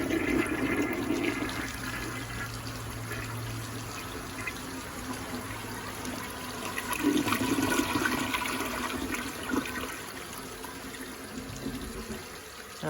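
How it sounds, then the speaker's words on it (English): A household toilet test-flushed after replacement of its flapper and fill valve gives a steady rushing whoosh and swirl of water, then refill gurgling, lasting over ten seconds with no talk. "Now, you can give that bad boy a test flush."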